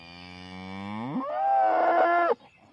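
A hardy Belted Galloway cow gives one long, loud moo close by, starting low and rising into a brighter, strained bellow before it cuts off abruptly.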